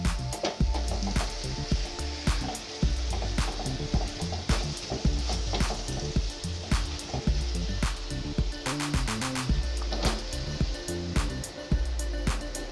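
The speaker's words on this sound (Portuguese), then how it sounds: "Esse óleo ele vai dourando a cebola." Onion fries in melted margarine in a pan, a steady close sizzle and crackle with occasional stirring scrapes, and no talking over it.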